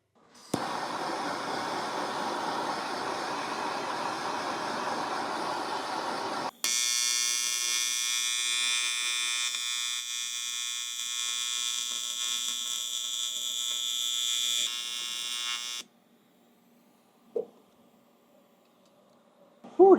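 Welder laying tack welds on thick metal on a Kawasaki KX250F motorcycle cylinder head: a rough crackling buzz for about six seconds, then a steadier tonal hum for nine seconds, followed by a quiet gap and a couple of short bursts.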